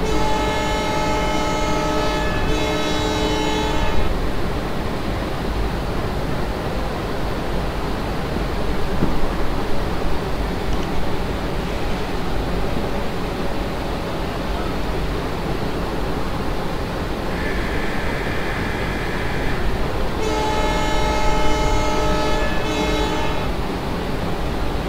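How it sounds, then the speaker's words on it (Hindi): In an Indian Railways passenger train simulation in Open Rails, a train horn sounds in long, loud blasts near the start and again near the end over a continuous engine and rail rumble. "चलिए हॉर्न बजा देते हैं।"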